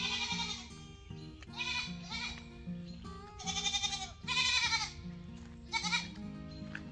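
Five-month-old goats bleat for attention in a run of loud, wavering cries, several calls overlapping in quick succession close by, with no talking.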